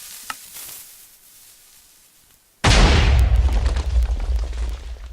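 After a quiet stretch with faint clicks, Minecraft TNT cannons go off in a sudden loud explosive blast. A crackling, rumbling burst follows and continues to the end.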